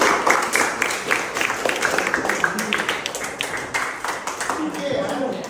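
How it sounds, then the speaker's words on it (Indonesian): Students in a vocational high school automotive class clapping together, a dense, steady patter of many hands lasting several seconds with voices talking over it. "tepuk tangan untuk kita semua."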